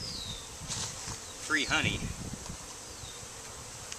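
Honey bees buzz around an opened backyard hive during an inspection, after some honey cells have been broken open. The insects make a thin, steady outdoor drone, and someone speaks briefly over it partway through.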